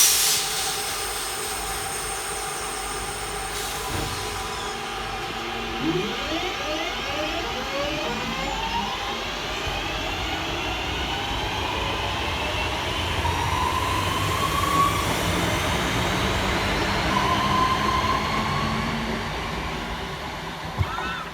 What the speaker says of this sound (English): Departing next from the station will be 323237 with the 10:43 Northern service from Manchester Piccadilly through to Crewe.